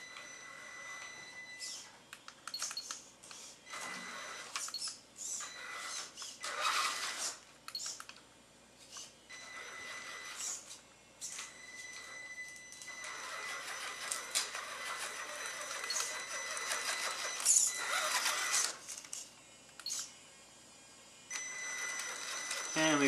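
A Copperhead RC crawler with a four-wheel steering conversion crawls sideways, giving off busy clicking and whirring mechanical bursts in a steady stop-start rhythm at close range, with no talking over it.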